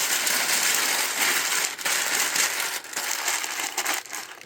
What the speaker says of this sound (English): Don't be shy with the paper. The tighter the better.